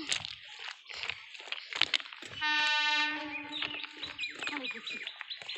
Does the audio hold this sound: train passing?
yes